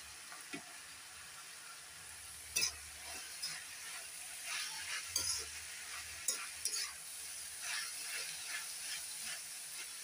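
Capsicum sautéing in a pan for Thanjavur-style poori masala gives a steady low sizzle, broken by occasional sharp clinks and scrapes of a utensil against the pan, moderately close and fairly quiet.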